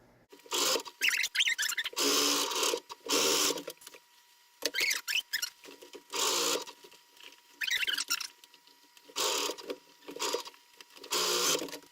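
Sewing machine stitching across the corner seam of a laundry bag in quick repeated bursts, each run of rattling stitches separated by brief pauses, close up.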